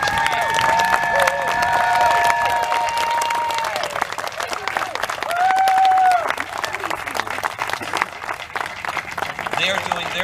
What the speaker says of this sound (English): can you give the Riverview PD a nice round of applause on the other side of the street?